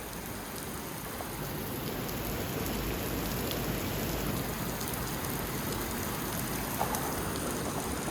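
Heavy rain pouring down in a constant, dense hiss with drops pattering on surfaces nearby, steady and loud throughout without any voices.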